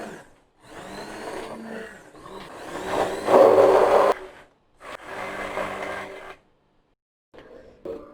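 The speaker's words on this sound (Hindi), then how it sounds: "और हैंड ब्लेंडर से इसको अच्छी तरह मिक्स करेंगे।" A hand blender whirs in several bursts, its motor buzzing and churning through thick lentil and chicken haleem, with short pauses between runs.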